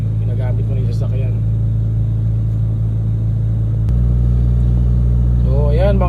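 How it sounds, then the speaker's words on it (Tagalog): Mitsubishi Lancer engine idling then stepping up to a higher steady revving note midway, a loud continuous low rumble close by, with someone talking over it at the start and end. "i-rev natin ng konti"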